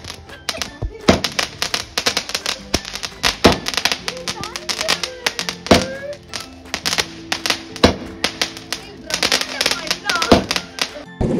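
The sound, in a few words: firecrackers going off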